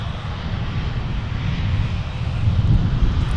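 A Sun Country Boeing 737-800 converted freighter taxis past at an airport, its engines giving a steady low rumbling whine that grows gradually louder as it nears.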